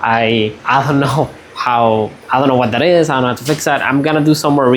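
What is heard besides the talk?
No everyday noise stands out behind the speech.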